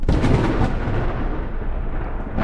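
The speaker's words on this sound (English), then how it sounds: "Wait, was there another thunder?" A loud, close rolling rumble of thunder in a video game, a broad crack that fades into a sustained low roar, heard alone.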